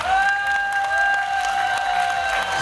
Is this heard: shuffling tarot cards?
no